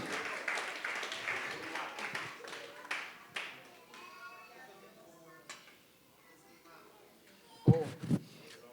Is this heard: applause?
yes